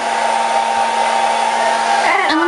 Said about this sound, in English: They like the blow dryer.